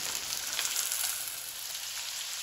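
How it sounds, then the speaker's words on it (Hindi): Cow head meat fries with ginger garlic paste in a hot pan, giving off a steady, even sizzle throughout at moderate volume, with no talking. "इसके साथ भी हम 1 से 2 मिनट इसको फ्राई करेंगे।"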